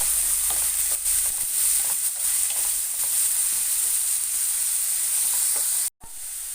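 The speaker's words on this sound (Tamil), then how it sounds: "நல்லா இதையும் சேர்த்து நல்லா வதக்கிக்கலாம்." A tomato, ginger and garlic paste being sautéed in a pan for a Tamil bread masala sizzles steadily with a bright hiss, with a few light stirring scrapes and a brief cut near the end.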